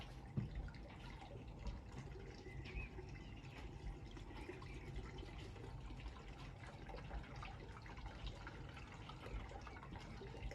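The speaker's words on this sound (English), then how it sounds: "We'll whack a bit of petrol in there." Petrol trickles and pours steadily into the fuel tank of an old Briggs & Stratton lawnmower, a continuous low liquid gurgle with faint drips running throughout at moderate distance.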